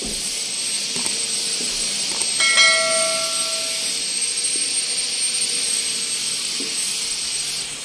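An exhaust fan pulling air through the interior of a large fiberglass boat under construction gives a steady, loud rushing hiss with no talk, while a brief higher whine rises and fades partway through.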